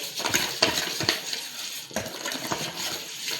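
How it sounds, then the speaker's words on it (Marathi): Ingredients being stirred and mixed in a pot over a wood-fired stove, with soft scraping, wet clinks and swishes in irregular strokes, close and fairly quiet with no talk. "हे सगळं मिक्स करून घेतलं."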